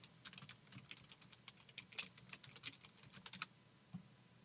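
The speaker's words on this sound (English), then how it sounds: "I'm just going to type in Outlook Desktop" Someone types on a computer keyboard in a quiet room. Soft, fairly close key clicks come in an irregular run of taps, with no talk.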